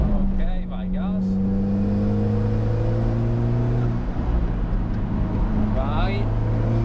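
An Alfa Romeo Stelvio's engine accelerating hard on the Balocco test track, heard from inside as a loud, steady drone with rising tones, while a voice speaks over it.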